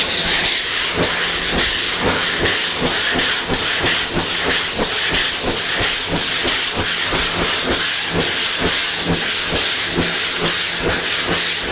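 Primer being block sanded by hand with 180-grit paper, using steady two-handed pressure to follow a curve and blend into an already sanded area; close, even rasping strokes repeat in a steady rhythm throughout, with no talking.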